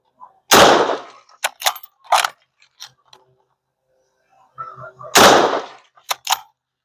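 Enfield No1 rifle firing .303 or .308 rounds, two loud sharp shots a few seconds apart, each followed by the metallic clacks of the bolt being worked, heard close with no voices.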